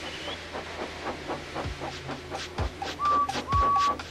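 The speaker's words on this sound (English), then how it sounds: "made lots of steam, and Edward puffed away" Rhythmic puffing chuffs of a steam engine at a steady pace, with a few short whistle-like tones and hissing, fairly close.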